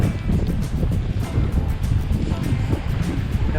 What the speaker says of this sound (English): That wind is something else.